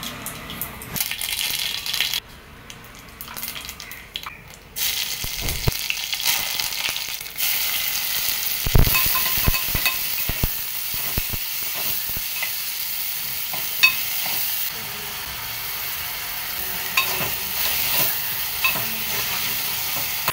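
Spices for kadhi tempering crackle and sizzle in hot oil in a pan, a close, continuous frying hiss with sharp pops and occasional stirring clatter, no talking.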